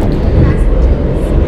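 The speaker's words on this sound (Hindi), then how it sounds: "अब जनरेटर कार का आवाज़ भी आ गया।" Generator car of the August Kranti Rajdhani special departing platform 4 in Indian Train Simulator: a loud, steady, low rumbling drone that continues unbroken for the short stretch.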